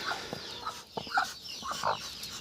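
Soft, low clucking from a broody hen sitting on ducklings nearby, a series of short throaty murmurs and chirps with quiet background noise.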